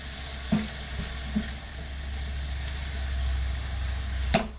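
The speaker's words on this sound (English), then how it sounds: "give it a stir" Prime rib fajitas frying in a pan, a steady low sizzle with a few soft scrapes of stirring and a sharper clank near the end.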